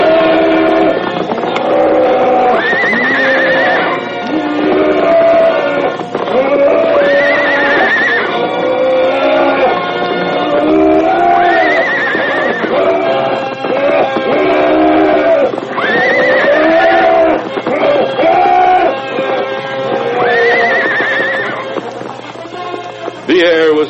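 Horses neigh and whinny repeatedly in a staged radio-drama battle scene, loud shrill whinnies rising and falling over a steady background rumble with no gaps for the full stretch.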